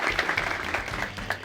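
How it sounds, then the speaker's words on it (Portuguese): Studio audience applause welcomes guest deputies on a Brazilian talk show, a brief, moderately loud patter of clapping with some muffled background murmur. "Uma salva de palmas."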